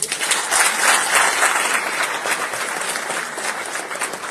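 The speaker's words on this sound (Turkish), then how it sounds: "Onları hep beraber alkışlayın." A crowd at a party rally in Turkey applauds the organisation's workers, a loud, dense burst of clapping that rises quickly and holds steady before easing slightly.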